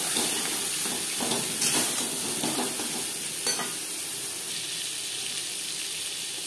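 Pieces of pointed gourd (potol) frying in a pan with salt and turmeric, a steady close sizzle broken by brief scraping stirs, with no talking.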